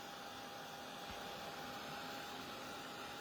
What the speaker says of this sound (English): Now I've got my little lovely heat tool here, and I'm just going to turn this on.